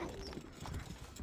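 Horse hooves gallop in the medieval strategy game Stronghold Crusader, a quick run of clip-clop beats at steady pace over a busy game soundscape.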